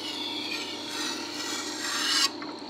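A kitchen knife is sharpened on an old Tormek T-4 sharpener, giving a continuous close scraping rasp for a couple of seconds before it stops abruptly.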